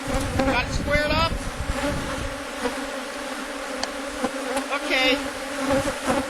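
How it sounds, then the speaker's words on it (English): Loud, steady buzzing of many honey bees flying close around an open hive during an inspection, rising and falling as individual bees pass near, with a man's brief spoken word and other sounds in the background. "you'll notice that there's a lot of bees flying"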